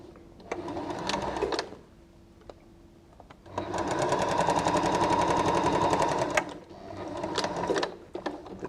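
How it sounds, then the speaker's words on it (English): A sewing machine stitches quilt pieces into a block, running in bursts of rapid mechanical chatter, a short run, a long steady stretch and another run, close and alone. "we're just going to sew these together"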